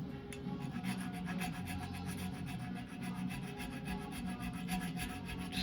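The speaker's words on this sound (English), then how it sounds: "Just filing some of the gouges and whatnot that are in the swing arm flat" Steady rasping strokes of a hand file working the flat surface of a 1986 Suzuki GSX-R 750 swing arm during restoration, a continuous close scraping texture with no talk.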